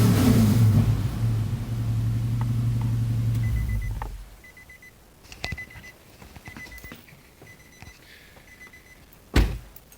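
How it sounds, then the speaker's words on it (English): A Nissan Xterra with a swapped Titan VK56 V8 engine and six-speed manual revs loudly for about four seconds, then cuts to near silence broken by scattered small clicks and one sharp knock. "I'll give it a little rev for you."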